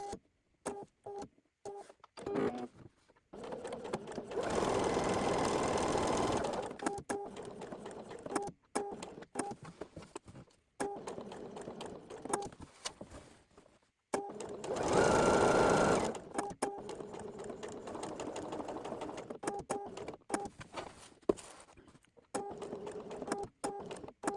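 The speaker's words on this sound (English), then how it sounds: "So I went ahead and stitched out or basted out the box that I have for my welt pocket." Sewing machine stitching or basting a box around a welt pocket in two sustained runs of rapid, even needle clatter, close and clear. Between the runs come quieter pauses with small taps and handling sounds.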